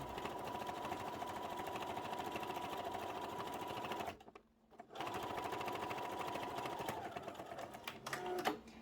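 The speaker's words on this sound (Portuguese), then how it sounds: "E venho costurando aqui, ó." Sewing machine stitching a fabric pouch, a close steady rapid whirring hum that stops for under a second midway, then runs on again and slows at the end.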